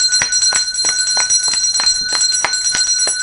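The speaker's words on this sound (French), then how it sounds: "Cloche a sonné sur toute étendue territoire national là" A bell rung across the national territory of Haiti on Thursday, 15 April 2021, strikes repeatedly in a steady quick rhythm, each stroke leaving a sustained bright ringing hum, loud and close with no speech.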